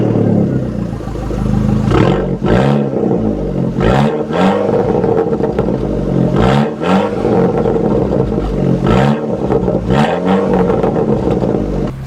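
A Fiat 500 Abarth engine revving and pulling hard while being driven, loud and close, with repeated throttle surges and gear changes rising and falling every couple of seconds.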